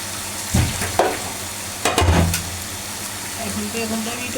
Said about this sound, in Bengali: বেগুনটা ভালো করে এখন কষা নেব।